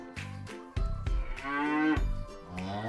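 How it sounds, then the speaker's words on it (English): A cow on a farm moos several times in a row, loud and near, with long drawn-out calls and brief pauses between them, no talking. "Look over there! That's a cow!"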